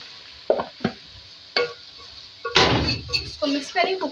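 Potatoes and okra being stirred and cooked in a pot for aloo bhindi, with a few clanking spoon knocks and scraping stirs over a light sizzle, close and uneven, mixed with talking.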